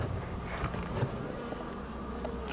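A dense, steady buzzing of many honey bees fills the air, a continuous close swarm hum with no voices, bees that have built comb behind a hive's divider board.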